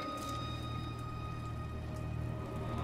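Steady rain pattering on surfaces in the video game God of War, a continuous even hiss with a low hum underneath.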